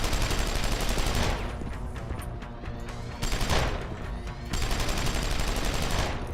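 A minigun in the video game Deus Ex fires long, dense, continuous bursts of rapid shots that roar loudly and steadily, with only brief dips in intensity between volleys.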